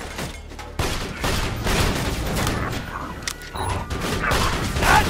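Turret gunfire in the video game Borderlands 2, dense rapid automatic shots and mechanical clatter running continuously at loud volume amid explosive game effects.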